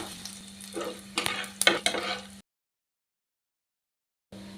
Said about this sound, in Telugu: ఇప్పుడు ఇందులోకి ఒక 4 ఎండుమిర్చి ఇలా చిన్నగా చీల్చుకొని ఇవి కూడా ఇలా ఫ్రై చేద్దాం